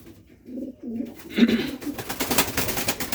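Racing pigeons coo softly nearby at night on a pigeon farm, in low, throaty repeated calls, followed by a patch of rustling noise.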